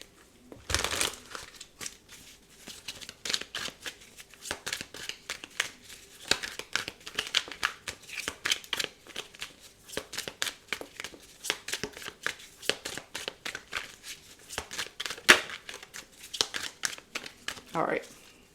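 Tarot cards are shuffled in a long, uneven series of soft flicks and papery rustles, close and fairly quiet, with occasional louder slaps.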